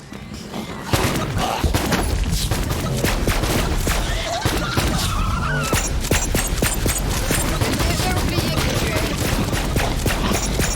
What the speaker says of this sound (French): Tirez sur les fûts et débarrassez-nous de cette immonde infestation.